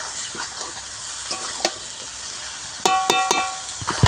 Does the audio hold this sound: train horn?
no